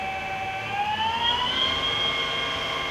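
Colchester Combi 4000 CNC flat bed lathe spindle speeding up to about 1000 RPM, a steady whine rising in pitch and then holding a high tone over a faint low rumble.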